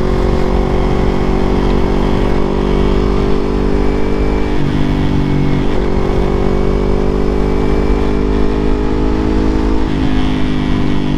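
Yamaha MT25 250cc motorcycle on a ride, a loud continuous engine drone with shifting pitch as the rider eases and rolls on throttle, steady wind rumble throughout.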